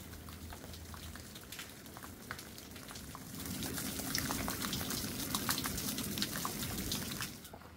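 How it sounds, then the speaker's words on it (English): Water streams and drips off rock overhangs on Lookout Mountain, a steady broadband trickle with scattered drop splashes that swells louder about halfway through and stays dense to the end. "right now you've got water coming off of most of them, so streaming down all over"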